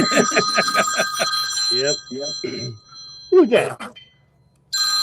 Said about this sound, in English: So that is an old school phone.